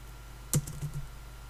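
Quick keystrokes on a computer keyboard while searching in the Ubuntu Software Center: one sharp click followed by a few softer taps, close and clear against a quiet background.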